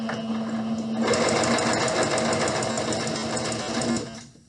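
A sewing machine stitches straight and then backstitches along a seam joining two pieces of pillowcase fabric, a steady close whirring for about three seconds before it winds down.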